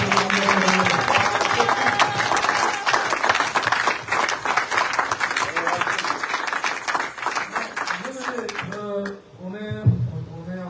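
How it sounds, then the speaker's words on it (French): A church congregation applauds loudly and steadily with dense clapping and some cheering, a voice speaking over it near the end as it thins out. "Tu peux acclamer très fort pour la première."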